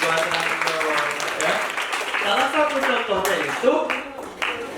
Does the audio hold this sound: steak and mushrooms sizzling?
no